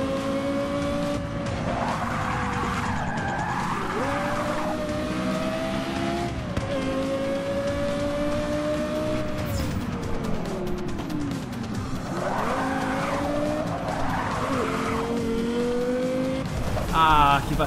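A 2010 Lexus race car in Forza 6 Apex at Dunsfold, England, revs hard through gear shifts and repeatedly squeals its tires in loud wavering screeches, with someone speaking over parts of it.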